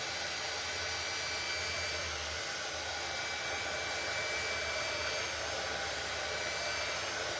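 A heat gun blows steadily while warming thin wood trim, producing a constant loud airy whoosh with an even motor drone that holds unbroken throughout.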